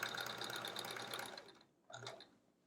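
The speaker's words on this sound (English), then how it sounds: "It's just sewing a pile of straight lines tonight." Close sewing machine running straight seams on quilt pieces, a steady mechanical whir for about a second and a half, then a pause and one short burst of stitching.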